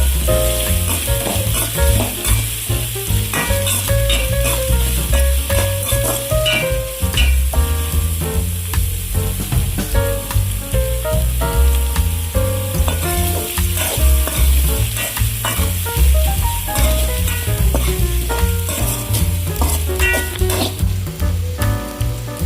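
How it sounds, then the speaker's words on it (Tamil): Ingredients stirred and sautéing in a pan for Singapore-style black pepper crab, a continuous loud sizzle with scraping of the spoon against the pan. "பச்சை வாசனை போகிற வரையும் நல்லா வதக்கிக்கலாம்."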